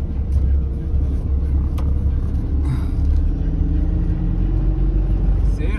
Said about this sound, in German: Sehr steil, alles mit der Motorbremse